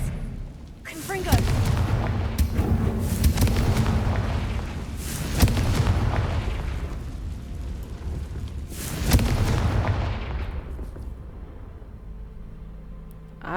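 Confringo blasting spells exploding in Hogwarts Legacy, three heavy booming bursts, each with a rumbling tail and spaced a few seconds apart, before the noise settles into a quieter hum.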